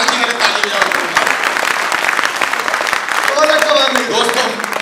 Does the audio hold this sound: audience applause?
yes